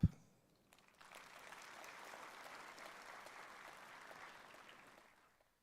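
Audience clapping at the valedictory function of a disaster management congress, a faint, distant roomful of hands that swells after a sharp knock, holds steady, then tapers away.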